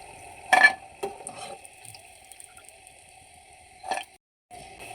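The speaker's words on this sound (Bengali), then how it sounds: "এরপর একে একে বাকি পিঠাগুলো আমি এভাবে ভেজে নেব" Coconut puli pitha frying in a pan, heard as a short sizzling burst with clinks of utensils and stirring, then a steady faint sizzle and another brief scrape near the end, without any talk.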